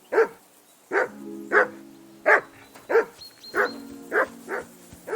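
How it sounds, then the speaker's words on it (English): A dog barks steadily in Kingdom Come: Deliverance II, with about eight sharp, close barks at a fairly even pace over a low, quiet background hum. "I assume you can hear that damn dog of yours barking"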